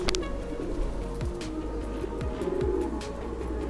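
Chuithal-breed pigeons coo softly, their low, rolling calls overlapping nearby amid faint shuffling and brief clicks, with no voices.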